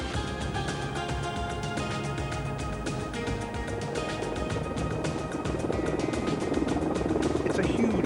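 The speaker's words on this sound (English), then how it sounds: "It's a huge helicopter." A Mil Mi-24 Hind helicopter with a five-bladed rotor flies at the Royal International Air Tattoo 1996 in Fairford, its loud continuous rotor chop and turbine whine steady and growing slightly nearer.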